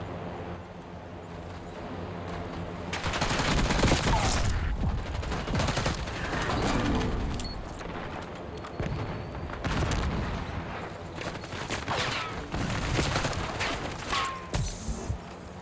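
Rapid bursts of automatic gunfire from the Black Ops 6 video game crackle almost continuously for the whole stretch, loud and dense, with brief lulls between volleys.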